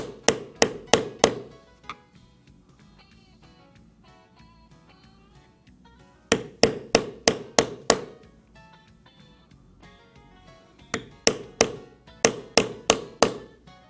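Metal stamping tool struck repeatedly into leather while embossing a pine cone pattern: sharp, close taps come in quick bursts of about five to seven strikes, with quieter pauses between the groups.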